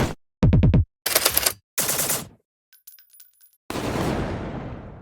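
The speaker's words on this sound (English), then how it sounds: "To create the enemy weapon sounds, I adopted a procedural approach by designing variations of each of the following layers." Procedurally layered enemy weapon gunshots for a video game ring out as a rapid burst of fire, then several crackling shot bursts and a long, noisy decaying tail, loud and alone.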